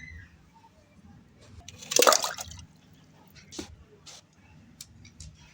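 Water poured into a container to refill it after ice was broken out, for putting back in a fridge; a loud splashing burst mid-clip, then softer drips and trickles.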